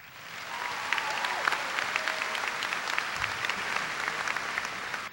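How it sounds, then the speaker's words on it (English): A graduation ceremony audience applauds steadily for the teachers, a dense, sustained wash of many hands clapping that swells in and holds at an even level, with a few faint voices beneath it. "please give a round of applause to our teachers"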